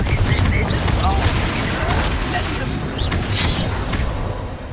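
Dense, continuous blasting and crackling from the Confringo explosion spell in Hogwarts Legacy, loud and sustained throughout with overlapping impacts and a rumbling low end.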